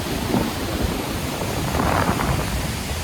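A steady, dense roar of rushing water with no breaks, loud and close, from a waterfall pouring down nearby in Norway.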